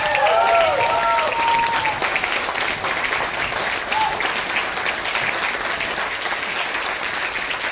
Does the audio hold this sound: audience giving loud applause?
yes